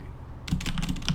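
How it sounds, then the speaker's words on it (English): Loud mechanical keyboard typing right below a microphone, a quick burst of sharp, clacky keystrokes in rapid succession, very close and alone after a brief quiet start. "I do have a mechanical keyboard, so yes, it's very loud, and it's like right below my mic."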